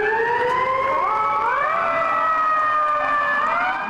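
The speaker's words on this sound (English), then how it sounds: "The sirens, the applause," Fire engine sirens wail loudly and continuously on a New York City street, their pitch sweeping up and down as several overlap close by.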